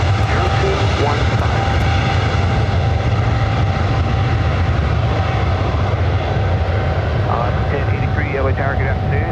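An airliner rolls down runway 24 right at LAX for takeoff, its loud, continuous engine roar holding steady throughout with a faint whine, and voices talking over the noise.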